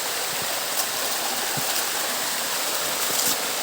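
Water plunges down a tall waterfall in a constant close roar. The broad hiss holds level throughout, with faint splashes and knocks now and then.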